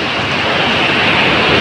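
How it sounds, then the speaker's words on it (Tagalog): Small ocean waves wash onto a beach at Bucana, a steady, close, fairly loud rush of surf with no clear breaks and some wind-like hiss throughout. "At medyo maliit ang alon."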